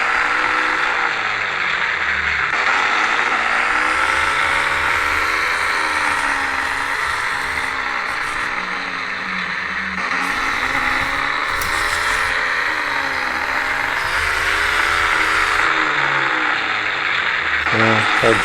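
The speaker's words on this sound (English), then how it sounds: "And driving the tank." Small RC-converted 1/35 scale model tank driving, a steady electric motor whine with wavering pitch that runs continuously at close range, with a voice talking over it.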